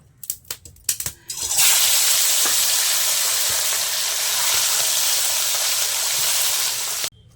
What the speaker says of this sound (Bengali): এখন আমি মাছগুলো ভেজে নেব।